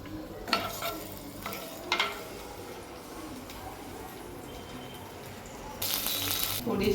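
Ginger-garlic paste frying in a pan for paneer masala, a low steady sizzle with a few scraping stirs and a louder hiss rising near the end.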